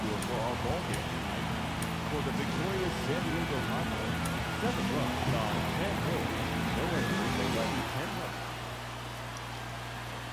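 Steady rain falls throughout a baseball game in MLB The Show 24, a dense hiss that holds constant and then quiets slightly near the end, with no voices over it.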